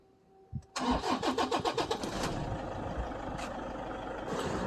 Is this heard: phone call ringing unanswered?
no